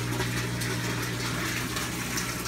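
Water runs down a pipe into the sump tank of an aquaponics system, a steady close gushing with a constant low pump-like hum beneath it and no talking.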